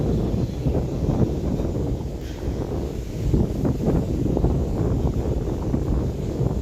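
Gusty outdoor wind buffeting the microphone, rumbling steadily throughout with rising and falling gusts.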